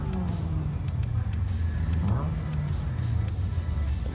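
Porsche driving past at the Oulton Park race circuit during a tuner car event, a steady engine roar at moderate distance under a constant crowd and track background, with people talking nearby.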